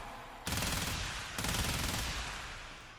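Rapid automatic gunfire from a weapon in the game Warframe, a loud continuous burst that starts abruptly, briefly restarts midway and then tails off slightly over three seconds.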